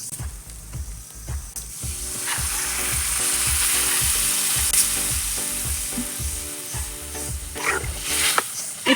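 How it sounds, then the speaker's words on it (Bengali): Spices such as cumin are stirred into onions in a pan, with a loud close sizzle and a steady rhythm of spatula scrapes, a faint background tone running beneath; no talking. "এখন সবগুলো মশলা আমি এই পেঁয়াজের সাথে আমি মিশিয়ে নিলাম।"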